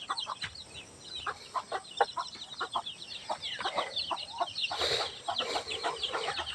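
Hens and chickens on a small family farm with chicks and a pen cluck in short, repeated calls, several birds close by and overlapping steadily throughout.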